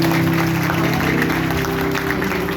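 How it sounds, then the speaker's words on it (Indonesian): Applause from a church congregation at a worship gathering, dense steady clapping over a sustained musical tone, loud and continuous throughout. "Boleh kita beri tepuk tangan yang terbaik Tuhan."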